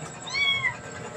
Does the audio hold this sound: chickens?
no